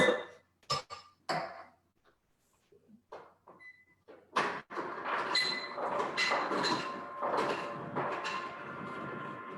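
Ice cubes dropping and clinking into a glass while an aperitivo cocktail is built directly in it, a few sharp clinks followed by a steadier rattle and clatter from an automated ice dispenser, close by.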